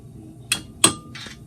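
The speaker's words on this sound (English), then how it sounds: "and hammer the little tabs back into place." A hammer taps the small tabs of a front wheel bearing hub assembly on a 1994-2004 Ford Mustang, using a deep well socket: three sharp, close metallic strikes spaced apart in quiet.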